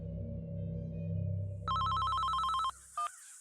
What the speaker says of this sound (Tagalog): Agad kong tinawagan si Diana.